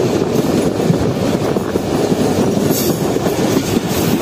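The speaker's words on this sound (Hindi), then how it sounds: "लग रहा है कि ट्रेन के ब्रेक्स लगना शुरू हो गए हैं" The Pak Business Express train brakes as it nears Pattoki station, a loud continuous rumble of railcars with rattling wheels and a faint high squeal, heard close from inside.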